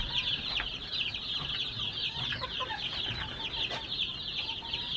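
Baby chicks peeping under blankets, a steady high chorus of overlapping cheeps running throughout, close and fairly loud, with light rustling beneath.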